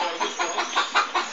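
A chicken clucking in a quick run of short, close, rhythmic clucks, loud and alone.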